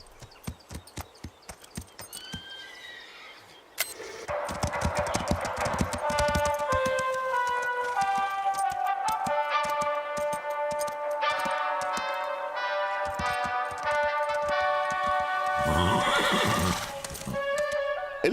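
Cartoon horses neigh and whinny while hooves clip-clop in a steady beat, the sharp clatter continuing under a rising musical score with bright sustained tones, close and loud throughout.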